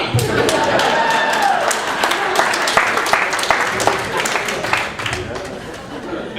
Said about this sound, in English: I did not expect an applause break from white people on that